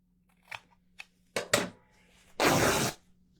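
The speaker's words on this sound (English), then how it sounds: "I'm going to take the fabric and I need to cut strips" Scissors cutting fabric into strips, heard as a few short, close snips followed by one longer, louder slicing cut, with no voices.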